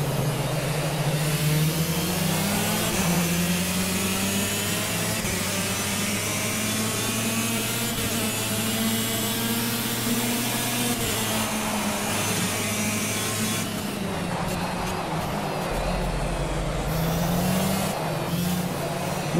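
A SuperKart 250cc engine in Project CARS at Dubai Autodrome, buzzing loudly and steadily for the whole stretch, its pitch rising and falling with each rev and gear change, with no talk over it.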